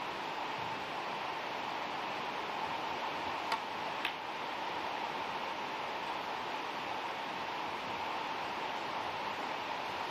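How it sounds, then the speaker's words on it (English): Heavy rain drums on the roof of a snooker venue during a Championship League match, a dense, even hiss that continues throughout with two faint taps midway and no talk. "The heavy rain hitting the roof."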